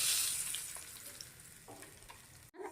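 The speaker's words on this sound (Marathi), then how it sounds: "आता हा गरम तडका ह्या चटणीवरती द्यायचा" Hot tempering (tadka) poured onto a fasting-style chutney sizzles loudly with a bright, crackling hiss that slowly eases off, then cuts out briefly before a short final burst of sizzle, with no talk.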